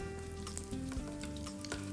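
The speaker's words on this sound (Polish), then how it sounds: "Olej mamy gorący. Wrzucamy do oleju, uważając, żeby się nie oparzyć." Pork dropped into hot oil and frying in a pan, giving a steady close sizzle with crackling and spitting throughout, without any talk.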